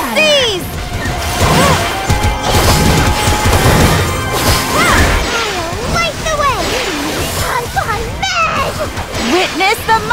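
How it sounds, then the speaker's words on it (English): A citadel wall collapses in the Cookie Run Kingdom video game with loud crashing, smashing impacts and rumbling booms. Music and excited character voices play over the destruction throughout. "The wall is collapsing!"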